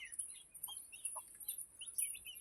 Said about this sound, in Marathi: ही 6 पिल्ले आहेत